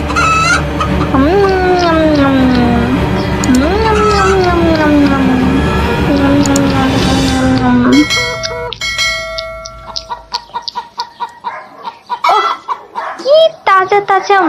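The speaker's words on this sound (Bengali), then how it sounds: "আর সে একটা মুরগি ধরে খেতে লাগলো" Chickens cluck and squawk close by, with a long wavering cry over the first half, then sharp clucks and tinkling sounds that come and go.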